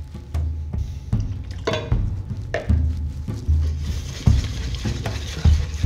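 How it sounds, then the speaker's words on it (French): A spoon stirs butter into a thick lembas batter in a bowl with repeated scraping and sloshing strokes, a steady rhythm of close, fairly loud knocks against the bowl and no voices. "nous, on va passer à l'incorporation du beurre dans notre appareil"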